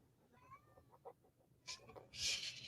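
A female cat in heat meows in another room, a few faint, distant wavering cries with a low background rumble and some louder rustling near the end.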